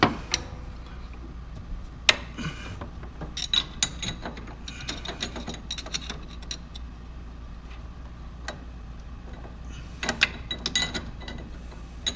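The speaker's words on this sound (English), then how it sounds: "we're going to loosen up using an 11/16 wrench the lock nut on this sector preload" An 11/16 wrench loosens the lock nut on the sector preload of an Edsel Ford steering box, giving sparse, close, irregular metallic ratchet clicks and ticks scattered over about twelve seconds, with no voices.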